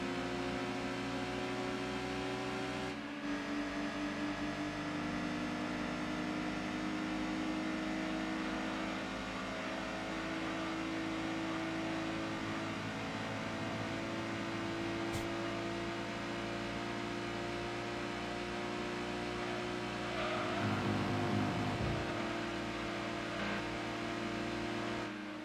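Racing car engine in Gran Turismo 2, running behind a Suzuki Cappuccino in its slipstream: a steady, loud, buzzing engine drone holding a high pitch throughout, with a brief gear-shift dip early and a short roughening near the end.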